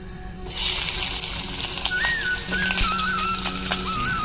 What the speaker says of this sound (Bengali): এই দেখো পেঁয়াজটা ভাজা হচ্ছে